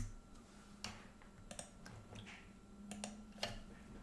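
Keys on a computer keyboard are pressed in a quiet, sparse pattern of separate clicks with short pauses between them, heard alone with no speech.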